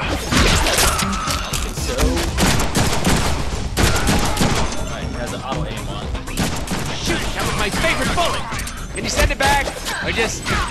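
Dense, continuous video-game gunfire from Deadpool, with a gun set to perforate, crackling as a loud sustained fusillade with crashes and impacts throughout, and a voice briefly heard under the din.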